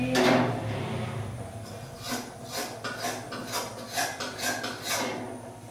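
Metal scraper rasps burnt black residue, left from frying eggplant, off the inside of an iron kadai, a run of short, close scraping strokes in an uneven rhythm with no talking.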